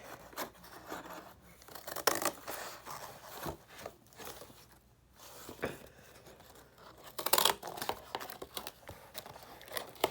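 Scissors snip and rasp through a cardboard base for a craft dragon, with crinkling and tearing textures in irregular close bursts, louder near the middle and end.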